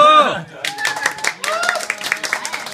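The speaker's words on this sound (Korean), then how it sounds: "박수!" Several people clap in scattered, uneven bursts at a year-end party, close by, with voices talking and calling out over the clapping throughout.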